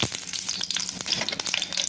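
Oil heats in a pan for vegetable pasta, giving a steady close sizzle and crackle with small pops, loud and continuous, with no talk over it.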